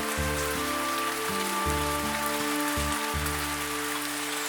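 Steady rain hisses down in an animated cartoon, a continuous wash of noise over low, stepped, music-like tones, with no one speaking.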